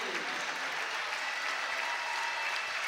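A crowd at a North Penn girls basketball game rises in a standing ovation, with sustained, dense applause and cheering filling the gym evenly throughout.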